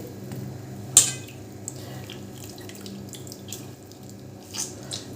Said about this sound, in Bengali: এরকমভাবে হাতে করে চেপে চেপে সব জলটা ঝরিয়ে নেব